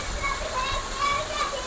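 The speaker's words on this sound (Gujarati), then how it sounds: "એવો વરસાદ પડે અટાણે" Heavy monsoon rain pours steadily across farmland in the Gir region, a dense, continuous hiss and rush of water, with a voice talking over it.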